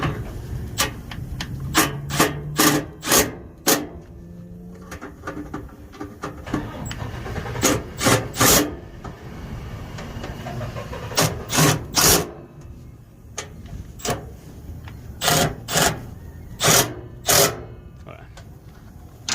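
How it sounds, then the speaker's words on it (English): Ratchet or wrench tightening bolts on the SCR outlet NOx sensor of a Freightliner Cascadia with a DD15 engine, in bursts of sharp rapid clicks between pauses, up close, with someone talking over parts of it. "All the bolts are in place. Now it's time to tighten them."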